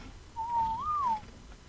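A player in ARK Extinction whistles once to a baby dinosaur, a single short rising-and-falling whistle under a second long, clear against faint background hum.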